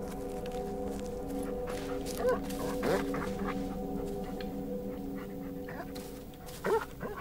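A dog whimpers in the Blair Witch horror video game, a few brief soft whines rising over a low steady ambient drone and faint game noises.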